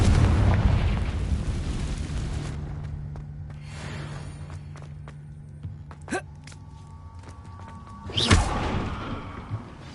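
Confringo fire spells explode in Hogwarts Legacy, a loud booming blast at the start fading into a rumbling tail, followed by quieter magical effects and a second sharp burst near the end, with no speech.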